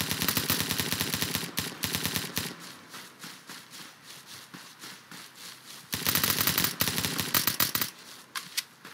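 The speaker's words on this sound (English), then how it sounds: "Where am I getting shot at?" Rapid bursts of automatic gunfire in a Roblox battle royale game, loud clusters of shots at the start and again near the end with sparser, quieter shots between.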